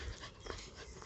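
A dog whimpers faintly in short yips and whines outdoors during a lockdown walk through a local valley, heard at a distance over steady wind-like background noise.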